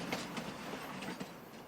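A train rolls along the rails in Farming Simulator 25 with a steady clickety-clack of wheels over rail joints. The rhythm repeats under a broad, rumbling wash of noise, and no horn sounds.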